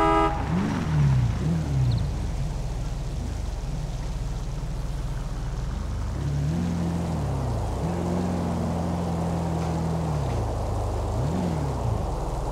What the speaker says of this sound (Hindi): क्या भागती है दोस्तों गाड़ी